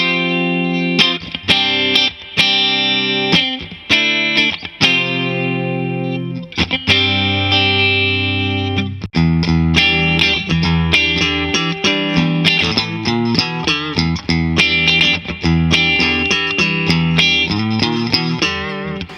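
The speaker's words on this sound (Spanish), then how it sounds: "Aquí, en esta posición, suena a Telecaster, francamente." Fender Telecaster Player HH electric guitar on the middle pickup position, run through effects with distortion and chorus, playing a loud, continuous phrase of picked chords and notes with a few short pauses early on, no talking.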